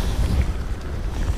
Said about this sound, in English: Well, it's getting quite breezy now